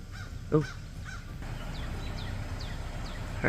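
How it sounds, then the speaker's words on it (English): A crow caws outdoors, two hoarse calls close together early on, followed by fainter, thinner bird chirps at intervals over a steady low background hum, with no one talking. "a crow of some sort"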